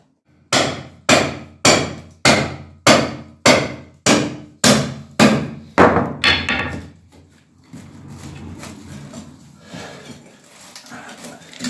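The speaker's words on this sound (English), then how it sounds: "Having to use a crowbar, but it's coming." A crowbar working plasterboard loose during a cottage ceiling renovation: about ten loud, evenly spaced knocks ring out close by, followed by softer scraping and rustling debris noise.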